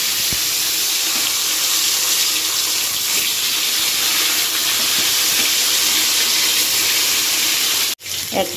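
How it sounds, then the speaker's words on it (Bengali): Gurjali fish hitting hot oil for a spicy eggplant curry give off a loud, steady sizzling hiss that runs for about eight seconds before cutting off abruptly. "তেলটা ভালো মতো গরম হয়ে গেছে, এবার মাছগুলো দিয়ে দেবো।"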